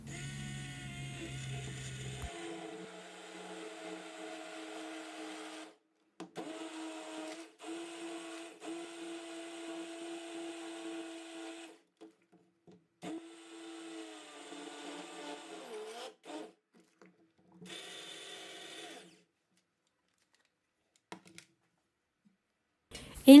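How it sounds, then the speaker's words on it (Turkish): A blender purees cooked red lentil soup until smooth, a steady motor whir running in several bursts with brief pauses between, fairly quiet and heard alone. "Blenderla pürüzsüz olana kadar çekiyorum."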